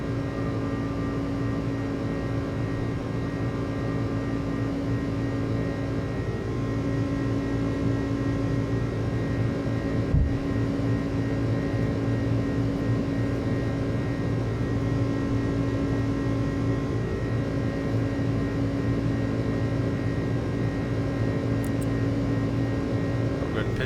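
Airbus A300-600 airliner climbing after takeoff in a flight simulator, a steady loud engine drone with constant tonal hum and no noticeable change, plain and unbroken throughout.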